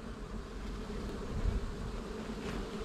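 Honeybees buzzing at a beehive during a honey harvest, a continuous close, low drone of many wings with slight swells in loudness.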